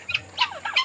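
Turkeys on a backyard farm give several short squealing, chirping calls in quick succession, close and fairly loud.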